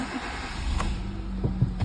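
A Hyundai i10 with an intermittent immobilizer and transponder starting fault cranks and catches briefly. Low engine rumble and a few soft mechanical pulses sound close by in a short burst.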